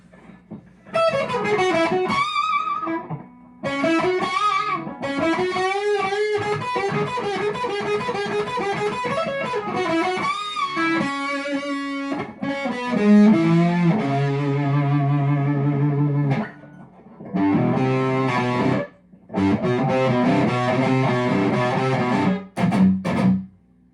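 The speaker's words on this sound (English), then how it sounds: "this here is honestly, it's a great distortion pedal. It's got a lot of tone, honestly, for what it is." An electric guitar played through a distortion pedal into an amplifier, with sustained overdriven chords and riffs running loud and close for most of the passage, broken by a few short pauses.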